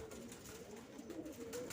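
Domestic pigeons in a loft give soft, low cooing calls, faint and close, repeating over quiet background noise.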